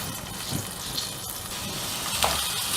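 Rice tipped into melted butter in a pan for corn methi pulao gives a soft sizzling hiss with light scraping and a brief splash, steady throughout.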